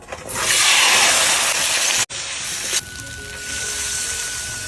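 Luchi, puffed flatbread made with flour, fry in hot oil with a loud, close, continuous sizzling hiss that breaks off abruptly, then resumes at a lower level.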